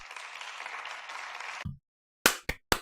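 A small group applauds steadily for about a second and a half, then goes quiet before three separate, sharp hand claps ring out close and loud, each one spaced a moment apart.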